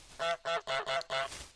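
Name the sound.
goose honking in video game Untitled Goose Game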